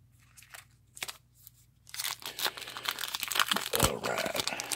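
Foil wrappers on 2017 Topps Heritage High Number baseball card packs crinkle and tear up close, starting with a few sparse rustles and then building into dense, continuous crackling.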